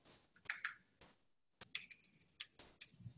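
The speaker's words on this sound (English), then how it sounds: "I keep typing on the wrong keyboard." Quick, light clicks of typing on a computer keyboard, close and quiet, one short burst, a brief pause, then a denser run of keystrokes with no voice.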